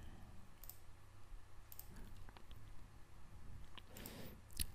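Computer mouse clicking, a few sharp isolated clicks spaced irregularly, close and faint over a quiet steady room hiss with no talking.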